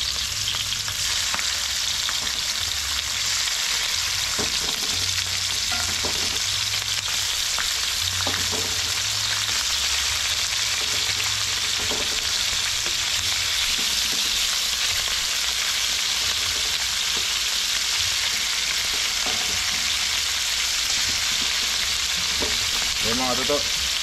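Chicken pieces fry loudly in a pan with a constant dense sizzle, and scattered stirring knocks and a low rumble sit underneath it.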